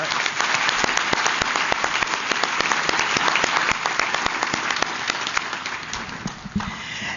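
Applause from an audience at a child abuse prevention breakfast thanking a speaker, with a dense, steady patter of clapping that holds for several seconds before thinning out at the end.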